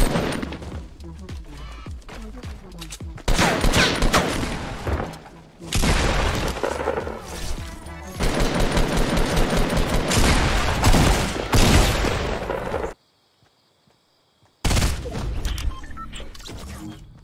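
In a Fortnite match, loud, close bursts of rapid gunfire come with booming impacts and crashes, nearly continuous before a short silent break, with a player's voice talking over the action.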